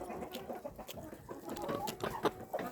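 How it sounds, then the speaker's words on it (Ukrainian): Chickens, including Cochin hens, cluck and chatter close by while being fed millet and sunflower seeds, with short irregular calls and soft scratching sounds overlapping in a busy, moderately loud backyard scene. "О, зараз ця курка Дивіться, мені голову скоро розклює."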